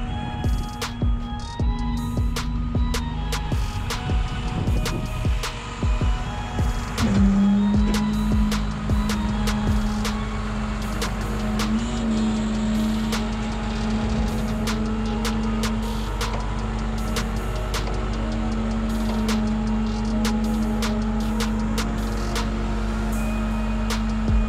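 Hydraulic bed of a tow truck tilting forward while loading a Porsche Macan with a nail in its tire, a steady mechanical whine over a droning engine idle with scattered clicks and clanks, close and continuous, no talking.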